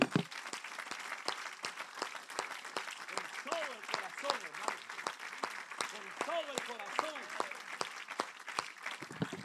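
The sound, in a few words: congregation applauding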